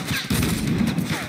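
Gunfire in the Fortnite video game sounds as a short burst of rapid shots, loud and close, in a quick rattling volley lasting about a second.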